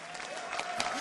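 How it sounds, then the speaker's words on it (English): Audience at a League of Legends world championship match clapping briefly, a short burst of scattered applause from the crowd that fades within about a second. "You can clap for that."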